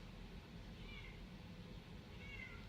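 A pet cat meowing indoors, two faint high wavering cries about a second apart over a low steady background hum.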